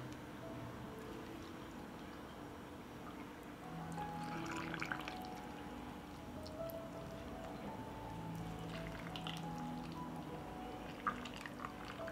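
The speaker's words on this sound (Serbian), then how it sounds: "Zatim ću tegle napuniti sa vodom." Water is poured into glass jars holding salt and vinegar for pickling, a quiet trickling and gurgling fill with faint drips and light glassy clinks, close and low in level.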